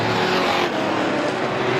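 Race cars in a Strictly Stock feature at a short oval track roar down the front straightaway, a loud continuous engine drone as the pack passes close by, with faint announcer commentary underneath.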